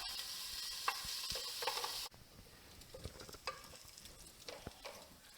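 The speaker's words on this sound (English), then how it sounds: "We want to cook this until the bacon's nice and soft and it's lightly browned" Bacon cooking in a pan for Texas chili, a faint, steady sizzle with scattered stir clicks and pops, the hiss dropping abruptly to a quieter level partway through.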